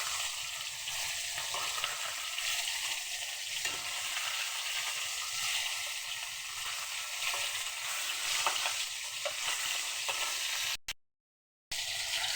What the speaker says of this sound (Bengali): মাছটা ভাজা হয়ে গিয়েছে, এবার মাছটা নামিয়ে নেব।